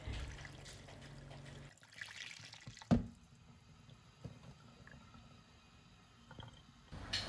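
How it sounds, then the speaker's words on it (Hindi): Water poured over washed moong and masoor dal in a kitchen, soft trickling and dripping with a few small knocks and splashes, fairly quiet and close, with no talk. "ये देखें जब मैं पानी डाल रही हूँ तो बिल्कुल साफ़ पानी आ रहा है।"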